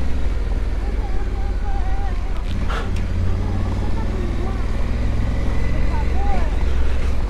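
A Honda Africa Twin motorcycle idles and rumbles steadily up close as a small child sits at the controls, its low engine drone continuous under wind buffeting and brief talk.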